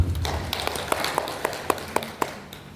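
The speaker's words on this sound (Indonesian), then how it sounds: "Tepuk tangan untuk kita semua" Scattered, light clapping from a small audience of mothers at an Islamic study gathering, a handful of separate claps spaced out over a few seconds, faint and fairly distant.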